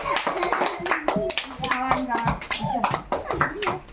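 Children clapping their hands during a handkerchief-passing game played indoors in a room, sharp irregular claps mixed with loud kids' chatter and shouting throughout.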